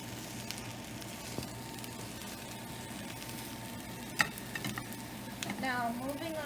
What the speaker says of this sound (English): you take the spatula and then you mix it around like this, so the onions and the potatoes can cook together